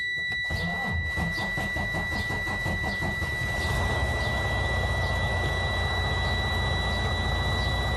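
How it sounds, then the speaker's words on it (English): A used truck tractor with low voltage after sitting for a while cranks over with a rapid rhythmic starter chugging, then catches and settles into a loud, steady diesel idle, with a high, constant electronic tone running throughout. "So we're gonna attempt to start the engine."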